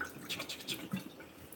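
Water dripping and splashing out of a rinsed container turned over during lemonade making: a short burst of a few close, irregular drips and small splashes, fairly faint, with no talking.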